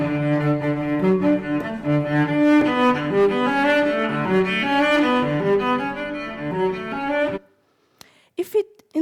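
Sonified bass-heavy universe with more power at large scales, heard as dense, loud music with strong low rhythmic notes and layered harmonics for about seven seconds, then stopping into near silence with a few brief clicks.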